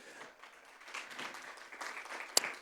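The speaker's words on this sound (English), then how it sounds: "let's give a warm round of applause to British Airways" At a business panel event on Black entrepreneurs and executives, a conference audience gives a round of applause for a sponsor. The clapping is quiet and sparse, with scattered claps and one sharper clap near the end.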